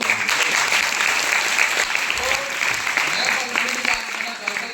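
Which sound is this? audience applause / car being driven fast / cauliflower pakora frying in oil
audience applause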